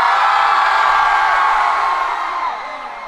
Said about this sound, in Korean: 그러면 함성 소리 일단 들어볼게요